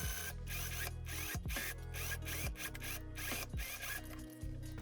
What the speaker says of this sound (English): And now we can go ahead and put the waist seam together,